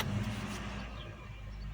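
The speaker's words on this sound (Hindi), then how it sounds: "गाड़ी को स्टार्ट करूँ" A car engine starting at idle during automotive diagnostic testing, a steady low engine rumble that holds throughout, fairly close and even in loudness, with no other sounds on top.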